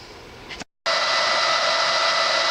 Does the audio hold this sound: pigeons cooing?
no